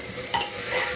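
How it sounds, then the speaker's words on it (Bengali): Rice frying in a pan, sizzling steadily while a utensil stirs through it, with a louder scrape of stirring midway; close and alone, no talk. "এবার ভাতটাকে ভাজছি, কিন্তু দেখতেই পাচ্ছে ভাতটাকে কিন্তু ভাজা চলছে আমার"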